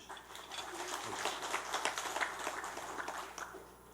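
A church congregation at a Sunday service applauds, a moderate stretch of many hands clapping that swells and holds for a few seconds before easing, heard from some distance.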